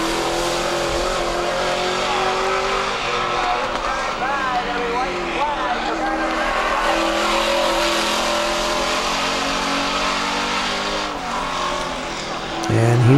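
Race cars lap a track near the end of a race, with a steady loud engine roar and revving that holds throughout, and a commentator talking over the noise.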